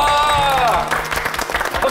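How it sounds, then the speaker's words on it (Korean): During a Korean food-tasting segment, a short burst of clapping mixes with excited voices and exclamations, close and lively, lasting under two seconds. "박수가 나옵니다."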